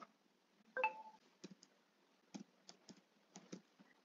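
Someone types an OTP code on a computer keyboard, with a scattering of soft, separate key clicks at an uneven pace and a brief electronic chirp near the start.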